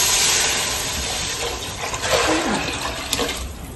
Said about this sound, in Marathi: आता हे पाणी याच्यामध्ये टाकायचं आहे.